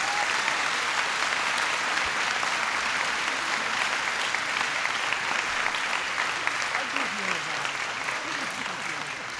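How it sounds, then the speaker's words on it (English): Sustained, dense audience applause at a presidential bill-signing ceremony for the Serve America Act, a steady loud wash of clapping from a large crowd that holds throughout with only a slight fade near the end. "Please give them a huge round of applause."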